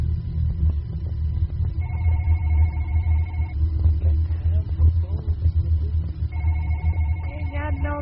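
Telephone ringing in a horror video game set in a dark office at night, two bursts of repeated electronic trills over a low steady rumble.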